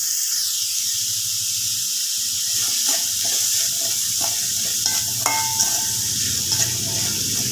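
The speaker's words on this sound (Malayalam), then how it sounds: "ഉള്ളി നല്ലതുപോലെ ഒന്ന് വഴറ്റിയെടുക്കണം." Chopped onions with added salt sautéing uncovered in a pan for a breakfast curry, giving a steady soft sizzle and hiss with occasional stirring scrapes and clinks throughout.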